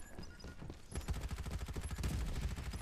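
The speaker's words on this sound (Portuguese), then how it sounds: "Tô ouvindo muito tiro, não sei onde que é." Rapid gunfire from the battle royale game Farlight 84, a dense burst of repeated shots that turns louder and more continuous after the first second, with bursts layered over each other.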